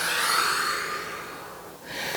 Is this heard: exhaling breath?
yes